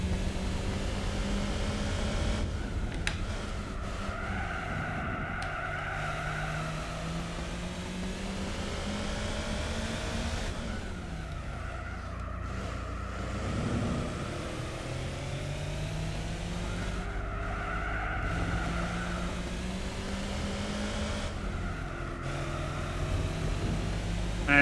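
Race car in Gran Turismo 4 driving laps with continuous loud engine drone, repeated rising and falling revs as it brakes and accelerates through corners, no voices.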